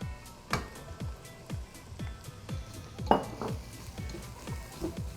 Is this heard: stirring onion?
yes